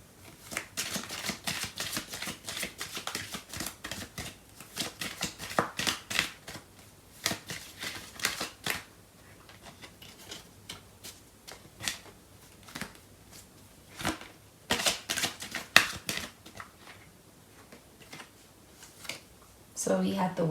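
Tarot cards being shuffled up close, a long run of quick riffling flutters and soft slaps in bursts, with quiet pauses between, alone without talk.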